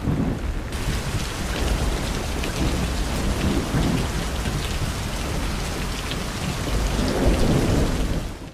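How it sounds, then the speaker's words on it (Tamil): Heavy rain pours down steadily in Kumbakonam, a dense loud roar of drops on surfaces with low rumbling swells of thunder underneath, no voices. "கும்பகோணம் சுற்றுவட்டார பகுதிகளில் பெய்த கனமழை காரணமாக வெப்பம் தணிந்து குளிர்ச்சியான சூழல் நிலவியது"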